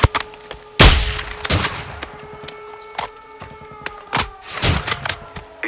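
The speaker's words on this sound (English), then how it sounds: "Sir, they're returning fire." Enemy gunfire in the video game Modern Warfare 2 comes as scattered bursts of sharp shots, some near and loud and others fainter, over a steady droning hum.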